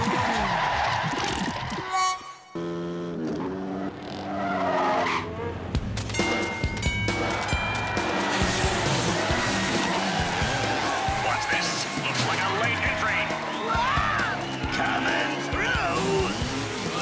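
Cartoon race cars in a Woody Woodpecker race screech and skid off the starting line, with tire squeals and revving engines over busy music and brief character voices.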